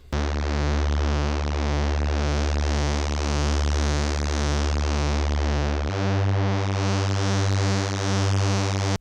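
Thick sustained synth bass from a UK garage preset, the first of two layers in a bassline, buzzing and distorted with a pulsing filter wobble, shifting to a lower held note partway through, alone with no voices.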